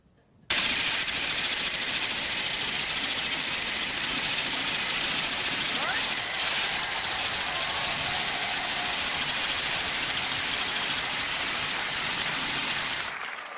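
Loud, continuous mechanical jackhammer racket starts abruptly and holds steady at close range with a gritty, hissing roar, then cuts off near the end.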